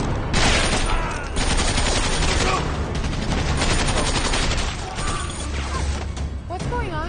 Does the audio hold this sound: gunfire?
yes